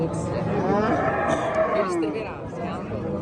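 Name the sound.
cattle mooing at a livestock market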